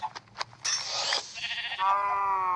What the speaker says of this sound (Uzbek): Endi sigir spam qildi, buni sezdim.